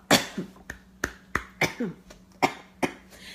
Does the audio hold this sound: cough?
yes